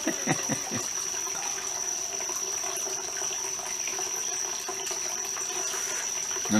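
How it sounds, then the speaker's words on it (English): A distant waterfall spills into a large pond crossed by a bridge, making a constant, even rush of flowing water with no break, apart from a few soft knocks at the very start. "Have my own waterfall in the distance into a big pond with the bridge over it."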